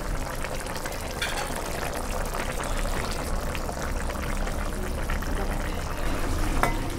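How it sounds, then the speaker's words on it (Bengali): Covered fish curry bubbling as it comes to a boil in a pot, a steady, loud hiss and simmer running throughout without pause. "মাছটা দিয়ে দিলাম, কিছুক্ষণের জন্য ঢেকে রাখবো, বলক আসবে।"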